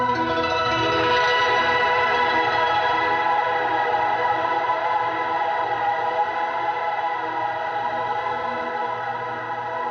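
A sustained, shimmering guitar tone slowly fades as layered reverb tails from an EarthQuaker Devices Swiss Things pedal wash on, dense and echoing with no playing over it.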